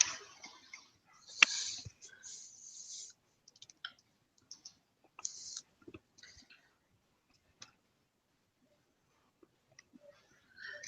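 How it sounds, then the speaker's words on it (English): Typing on a computer keyboard, quiet scattered clicks and short bursts of keystrokes with long gaps between them, soft and close. "Looks like she's still typing."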